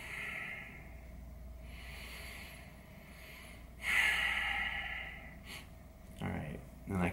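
A person exhales audibly while leaning into a neck stretch, slow breathy puffs and sighs spaced across several seconds, close and fairly quiet, with a few rustles and soft movement noises in between.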